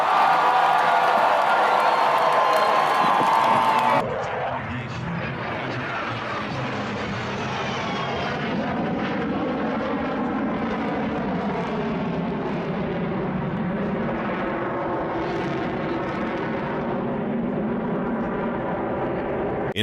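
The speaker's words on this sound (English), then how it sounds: "these expert aviators coordinated a massive 49-plane flyover during a sporting event" A massive 49-plane formation flyover at a sporting event roars overhead, a broad sustained rumble that swells and fades above a cheering crowd, following a brief burst of louder noise at the start.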